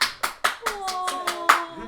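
A few pairs of hands clap in a quick, uneven burst of about eight sharp nearby claps, with a voice briefly sounding under them.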